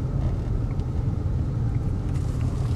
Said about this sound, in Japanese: 路面のね、ガタガタする音が聞こえてきますね